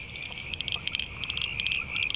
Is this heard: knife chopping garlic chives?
no